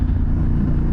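A motorcycle exhaust rumbles loud and close, a steady deep low-pitched throb with no talking.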